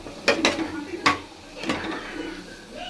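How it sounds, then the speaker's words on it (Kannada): A spoon scrapes and knocks against a pot while chili powder is stirred into chicken biryani masala, a few sharp metallic clanks over soft background noise. "ಎಲ್ಲದಕ್ಕೂ ಹೊಂದ್ಕೊಳ್ಳೋ ರೀತಿ ನಾವೀಗ ಇದನ್ನು ಮಿಕ್ಸ್ ಮಾಡ್ಕೊತಾ ಇದ್ದೀವಿ ನೋಡಿ"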